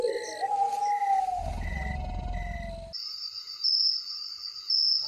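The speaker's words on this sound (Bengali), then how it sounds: "শুধু ঝিঝি পোকার ডাক" Crickets chirp at night over a silent village, a steady high trill with pulsing accents coming in after a low rumble and tonal cartoon-style sounds.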